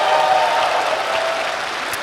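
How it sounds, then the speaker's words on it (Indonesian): Audience applause at a stand-up comedy show, a dense, steady wash of clapping that holds at an even level for the whole stretch, with no voices over it. "Tepuk tangan semuanya."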